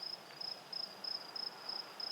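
A cricket chirps in repeated short, bright trilling bursts at an even rhythm, faint and close against a quiet background with no talk.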